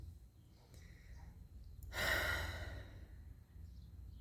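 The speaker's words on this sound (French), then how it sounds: "je me concentre sur ma respiration dans le ventre" One slow, deep breath is drawn in and let out as a long audible sigh, close and quiet, during a belly-breathing relaxation exercise.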